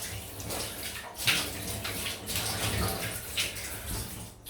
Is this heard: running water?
yes